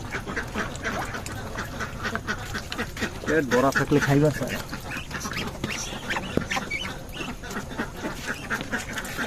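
Ducks quacking at a shop selling ducks and broiler chickens, a burst of loud, nasal quacks near the middle over a busy background, with people talking throughout.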